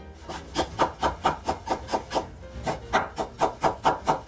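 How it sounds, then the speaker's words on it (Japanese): A knife chops through cucumber on a cutting board in about fourteen even, evenly spaced strokes, each a short woody knock with a scraping edge, close and alone. "両端少し切り落として"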